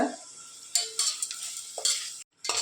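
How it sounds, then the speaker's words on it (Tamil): Onions and tomatoes sautéing with rock salt in a pan for wheat rava biryani, a quiet sizzle broken by several short stirring scrapes and a brief pause near the end. "இப்போ வெங்காயம் தக்காளி நல்லா வதங்குறதுக்கு கொஞ்சம் கல் உப்பு சேர்த்துக்கோங்க"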